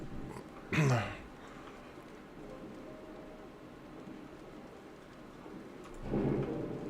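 A stormy sea in a free-diving video game: steady rain hiss, with a loud thunder crack near the start and a second rumble building at the end, and a voice speaking briefly in the middle.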